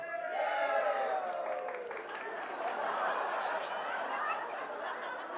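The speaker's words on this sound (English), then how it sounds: "give me a nice big cheer if you are from my home country" A cruise ship audience cheers and claps for the United Kingdom at an opening-night show, a steady, loud crowd roar of whoops and laughter with talk mixed in, sustained throughout.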